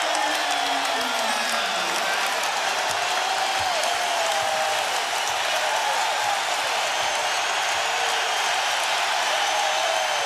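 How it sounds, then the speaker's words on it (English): A basketball arena crowd at the 2008 NBA Finals game against the Lakers roars with sustained cheering, whoops and applause, a dense, loud wall of noise that holds steady throughout without a break. "This crowd has absolutely erupted here in the third as Pierce just picks up another foul"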